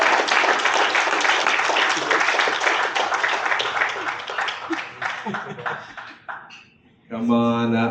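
Event audience applauding a man called up on stage, dense clapping for several seconds that thins out and fades, followed by a speaking voice near the end.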